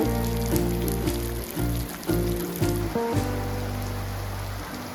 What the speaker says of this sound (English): Wow, now it's raining very nicely.